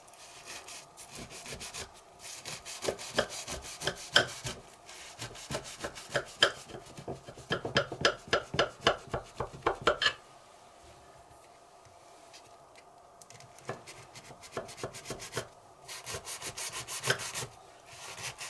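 A knife saws through layers of pistachio baklava pastry in a tray, rapid rhythmic scraping strokes in close bursts with short pauses between rows.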